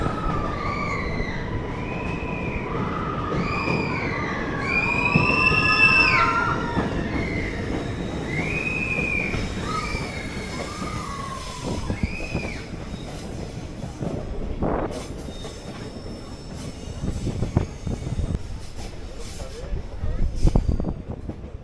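Slow-moving train entering a tunnel on the way to Madurai makes a low rumble with high, wavering squeals, mostly in the first half, under scattered voices.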